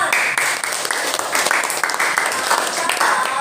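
Classroom applause during a teacher-training lesson in Indonesia, a steady patter of many hands clapping at close range that rolls on with slight surges, with voices faintly beneath.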